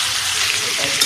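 Chicken meat sizzles and fries in a pot as it is stirred for pulao, a loud, dense, continuous crackle close by with soft scraping movements and no talk.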